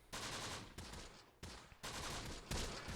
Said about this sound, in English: MG's opening up.